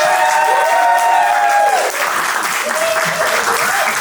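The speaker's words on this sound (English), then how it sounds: "Round of applause one more time." Audience applauding a film panel at an art house cinema, a steady dense wash of clapping close by, with voices cutting through and a brief dip midway before it carries on.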